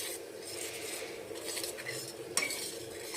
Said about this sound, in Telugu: ఇలా ముందుగా ఉండలు లేకుండా శనగపిండి ఇలా కలుపుకోవాలండి